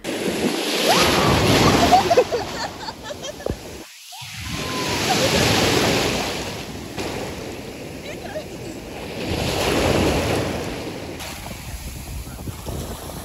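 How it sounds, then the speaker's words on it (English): Sea waves washing onto a beach in Spain, swelling and receding in slow surges every few seconds, with steady wind noise over the microphone and a brief drop-out partway through. "We enjoyed the sound of the sea"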